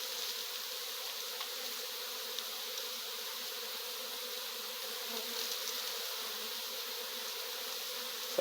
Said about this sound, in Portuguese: tá um enxame de abelha famoso